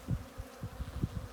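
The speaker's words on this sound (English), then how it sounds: "Got a lot of bees around you." Honey bees buzzing around a queen cage in a hive, a faint, close, low drone with irregular pulses as individual bees move nearby.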